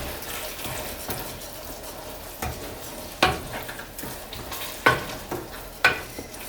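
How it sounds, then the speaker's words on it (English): Fideo vermicelli noodles with shrimp are stirred in a pan, with a low constant sizzle broken by several sharp scraping clacks of the utensil against the pan at irregular intervals. "Keep stirring, looks good."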